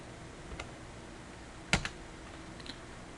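Typing on a computer keyboard while entering measurements into 3D modeling software: a few scattered, close key clicks, with a sharper cluster of strikes in the middle, heard alone without talk.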